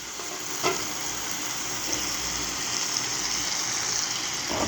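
Tomatoes sautéing in a pan, giving a steady hissing sizzle up close, with a few soft stirring clacks now and then and no talking.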